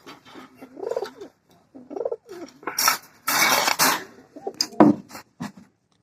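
Giribaz pigeon cooing close by in a few soft, rolling bursts, broken by louder flapping, scuffling and clattering noises in the middle and near the end.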